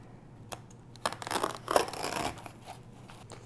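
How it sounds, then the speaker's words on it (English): An X-Acto knife slices through a thin sheet of moss, giving close, faint scratchy tearing and crinkling strokes in a short irregular cluster, loudest in the middle and fading out. "I can just take this X-Acto knife and just cut right through it."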